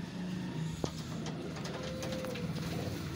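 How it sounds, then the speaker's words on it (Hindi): Soft, low cooing from a strong, extra-powerful pigeon repeats gently at a modest distance, with a few faint clicks in the background. "बहुत ज़्यादा मजबूत एक्स्ट्रा पावर कबूतर"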